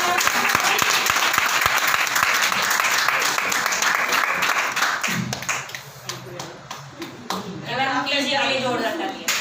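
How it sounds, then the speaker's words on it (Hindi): Loud, dense applause from the audience at an education meeting fills the first half, then thins into scattered claps while a voice speaks over it. "जोरदार तालियां।"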